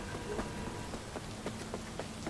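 Rain in a Cyberpunk 2077 game world falls as a steady, fairly quiet hiss, with light patter and scattered drops landing throughout.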